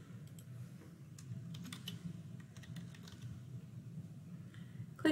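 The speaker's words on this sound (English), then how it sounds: "So let's start by typing in Georgia." Steady typing on a computer keyboard while entering a search term into an online mapping database, a quick run of light, close key clicks over a low background hum, with no voices.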